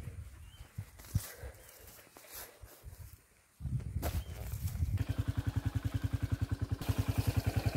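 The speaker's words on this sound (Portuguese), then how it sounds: "Vai tocar a moto aqui, ó." A small motorcycle is pushed through a farm gate in light rain, with clattering and footsteps before its engine starts and settles into a steady, pulsing idle close by.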